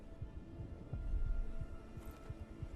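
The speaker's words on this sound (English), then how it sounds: "I can hear my heartbeat" Heartbeat sound effect from the video game Arise: A Simple Story, a steady series of low, soft thumps in a regular rhythm over a faint hum, with no talking.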